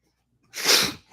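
A single sharp human sneeze, close and loud, bursting out after a brief quiet moment and trailing off quickly.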